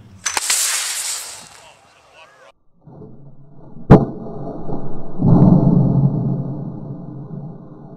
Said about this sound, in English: And here is the launcher in the field launching Dark Shadow.